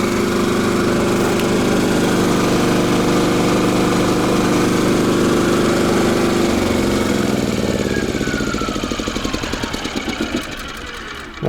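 A small generator engine runs steadily and loud, close by, then is switched off so its drone winds down and sputters to a stop near the end.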